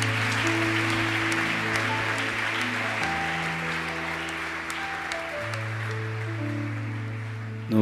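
Congregation at a church service applauding and cheering in praise, a dense steady wash of clapping under sustained organ or keyboard chords.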